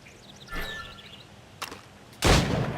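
Gunshots at targets in the video game Assassin's Creed Rogue: a couple of sharp, isolated cracks spaced apart, the last one loud and followed by a lingering rumble, over faint ambient birdsong.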